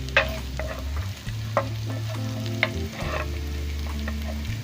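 Ginger and garlic frying in ghee for a potato and egg dish, a crackling sizzle over a steady low hum, with scattered clicks and scrapes from stirring and no speech.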